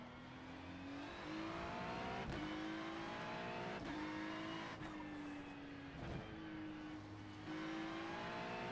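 Engines whine continuously through a race track section in a racing video game, with rising pitch sweeps and sharp shift breaks as several cars pass, played back quietly.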